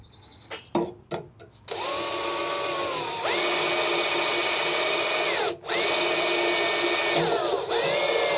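Power drill driving into a falling-apart kitchen drawer during a DIY repair: a few short taps and bursts, then sustained whirring runs that ramp up and down in pitch with speed changes, with one brief pause between runs.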